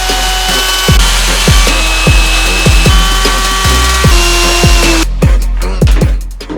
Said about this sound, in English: I took my wooden router and started trimming off.